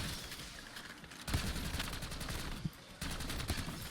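Maelstrom weapon firing in Black Ops 6 Zombies, a dense rapid barrage of shots in two long bursts with a short break between them, loud and close with no talking.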